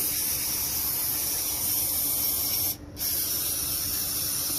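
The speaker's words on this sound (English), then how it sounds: "that's why it looks like I'm spraying up from the bottom of the car" An aerosol can sprays engine cleaner upward under a car raised on a lift, cleaning the timing belt area, in a loud, continuous hiss broken by one short pause before the spray resumes.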